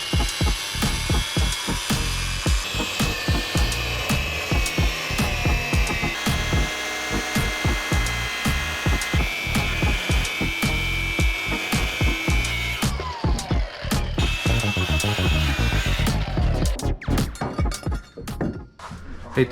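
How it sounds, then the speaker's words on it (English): A Sawzall reciprocating saw cuts through material in a home kitchen during plumbing work, making a loud, rapid run of rough, buzzing strokes with clattering knocks before it stops and starts again near the end. "Hate to tell you this, but I need the Sawzall."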